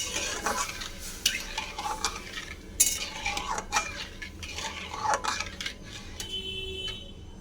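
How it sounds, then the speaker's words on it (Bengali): A spoon stirs semolina in a pan of water with ghee for a sweet suji, scraping and clinking in irregular close strokes against the metal, with a soft background hiss and no talking. "এবার সুজি ভালো করে নাড়তে থাকবো।"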